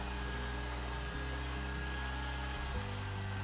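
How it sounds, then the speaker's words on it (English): An electric mixer whips eggnog cookie dough in a home kitchen, giving a steady, loud motor whir that holds for the whole stretch and drops slightly in pitch near the end, with no talking over it. "Now I'm kind of whipping this for just a moment or two."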